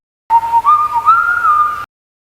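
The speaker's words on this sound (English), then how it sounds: "BJ whistled a little tune," A person whistles a short, clear little tune, one bright sustained melodic line that wavers and rises in pitch for about a second and a half, close and alone.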